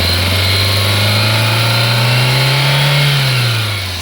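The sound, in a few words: Maruti Suzuki Zen Estilo car engine revving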